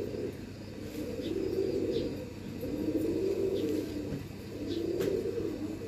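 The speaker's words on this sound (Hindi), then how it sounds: "बेसिकली तो ये कमग्गर कबूतर हैं, प्रिंस इनको कहते हैं, प्रिंस कमग्गर" Kamgar Prince pigeons coo in slow, rolling phrases, three low murmuring swells repeating close by, with no voices.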